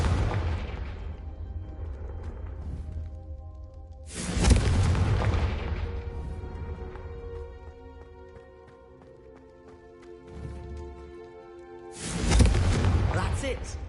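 A Confringo fire spell explodes in the Hogwarts Legacy video game, landing as two loud booming bursts several seconds apart over a low rumbling game score.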